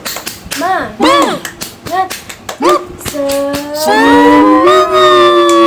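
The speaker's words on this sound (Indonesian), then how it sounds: "kita tepuk semangat dulu yuk" Sixth-grade schoolchildren in a classroom perform a rhythmic clapping chant: sharp, loud group claps punctuate rising shouted syllables, then the voices swell into a sustained cheer.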